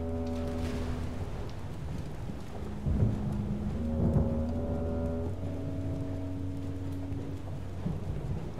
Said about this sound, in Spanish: Tormenta, ¿no?